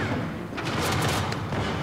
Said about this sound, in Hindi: चारों तरफ से गोलियां चल रही हैं।